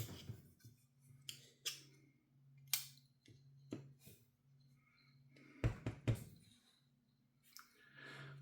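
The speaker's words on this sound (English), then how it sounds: "So I come in here and I cut some of this plastic out." Snips and clicks of a cutting tool trimming plastic from a small RC car receiver mount, a few sharp close cuts spaced apart with handling noise between, quiet and no talking.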